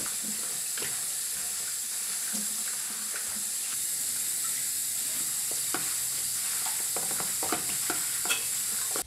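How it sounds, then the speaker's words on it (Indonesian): Kipahit leaves being washed clean in water make a steady watery hiss, with scattered splashes and light knocks that grow busier toward the end. "Lalu cuci bersih daun kipait"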